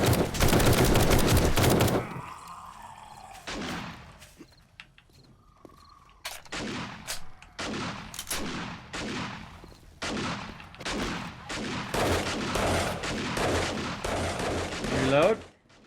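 Rapid gunfire while fighting mobs in 7 Days to Die, a dense loud burst at first, then repeated sharp shots and short volleys spaced across the scene, close and punchy.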